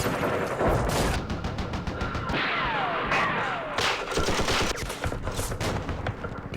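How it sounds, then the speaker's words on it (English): Support weapons fire in a Vietnam War strategy game set at Dien Bien Phu. Continuous, loud bursts of gunfire and booming explosions fill several seconds, with a few sweeping whistles partway through. "let's do some firing with our support weapons again"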